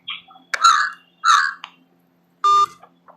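An incoming phone call rings in a quiet room, with short warbling tonal bursts followed by a steady electronic beep, clear and close with no talking.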